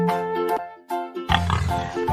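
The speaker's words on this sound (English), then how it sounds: "P for pig." A pig grunts and oinks in a cartoon alphabet sequence: a few short nasal tonal snorts, then a rougher, louder grunting burst at the end, close and clear.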